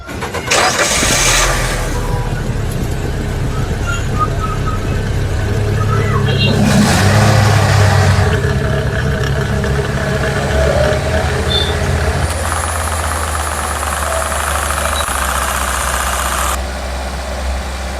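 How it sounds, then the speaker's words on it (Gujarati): A car engine cranks and catches, then settles into a steady idle hum, close by, with a voice speaking over it. "જ્યારે એન્જિન ચાલુ થાય છે"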